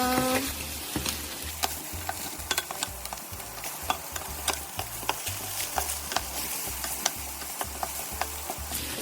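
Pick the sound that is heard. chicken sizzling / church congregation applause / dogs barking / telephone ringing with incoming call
chicken sizzling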